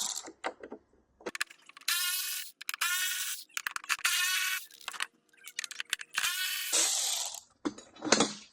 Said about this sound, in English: Pop that on my battery ratchet again real quick. And we will spin those out.